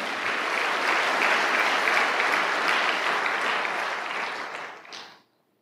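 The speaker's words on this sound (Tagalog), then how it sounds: "Lakasan niyo yung palakpak niyo," A church congregation bursts into loud, dense applause, many hands clapping close and steady for several seconds before fading out quickly.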